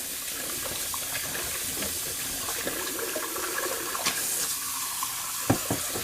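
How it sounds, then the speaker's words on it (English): Running tap water splashing into a shaving soap bowl as it is rinsed out, a steady gush with small clinks and sloshes, a couple of sharper knocks near the end. "So while it's still drying up, I'm just gonna rinse out the bowl"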